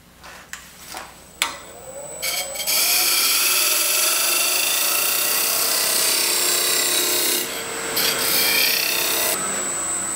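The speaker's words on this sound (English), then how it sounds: "the first thing I'm going to do is I'm going to part the base away from the lid" A wooden box base is parted from its lid on a woodturning lathe, a loud steady rasping cut running almost continuously after a few brief scrapes at the start, with no talking.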